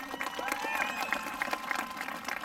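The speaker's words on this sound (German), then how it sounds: "Dafür mal einen riesen Applaus hier für die tolle Geste." Audience applause at a benefit rodeo event, a steady mass of clapping from the crowd at moderate distance, with a presenter's voice and crowd noise mixed in.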